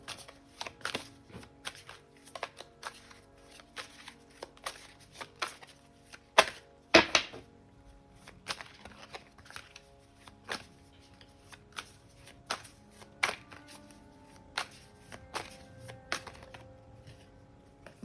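Tarot cards are shuffled and handled in a long run of crisp, rapid riffling clicks and snaps, close and fairly quiet, with irregular bursts and short pauses.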